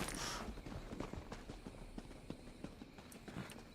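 Horse hooves clip-clopping in a Dark Souls game, soft evenly spaced hoof strikes at walking pace, faint and fairly close over low ambient noise.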